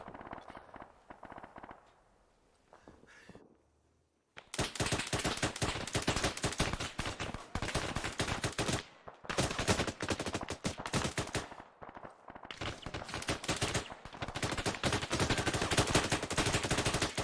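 Dense automatic gunfire in the military shooter ArmA 3: long rapid machine-gun bursts, loud and close, running almost continuously after a quieter opening and pausing briefly twice.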